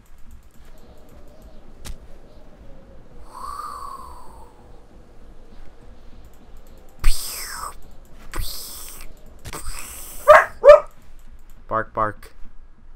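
A small dog creature in the modded game Ark Survival Evolved gives a few short, sharp barks in two quick pairs near the end, after quiet stretches broken by faint thumps and clicks.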